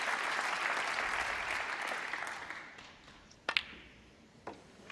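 A snooker audience at the 2014 Masters applauds a century break, steady clapping filling the first half and fading away, followed by a few sharp isolated taps near the end.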